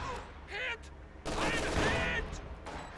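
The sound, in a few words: artillery barrage in a video game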